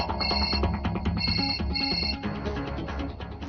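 A telephone rings with a repeated electronic trill in short bursts, loud and close, with no voices.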